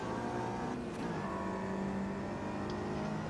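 Mini Cooper S engine droning steadily in the AMS2 racing game on the Monaco circuit, a continuous revving hum with shifting pitch and no pauses, moderately loud throughout.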